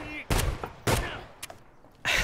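Gunshots in Escape From Tarkov while testing Kirasa armor: three loud separate shots with pauses, then a fourth, each ringing briefly, with faint background noise between.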